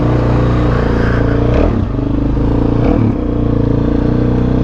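A supermoto motorcycle is ridden on a cold day, its engine a steady, loud, close drone heard from the bike, with brief dips in the note.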